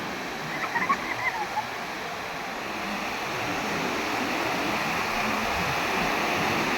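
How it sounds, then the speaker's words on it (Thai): Sea waves wash onto a beach with a steady, broad rushing hiss that swells slightly over several seconds, close and continuous with no distinct single breaks. "น้ำทะเลใสคลื่นสวยอ่าแค่นี้ก็พอ"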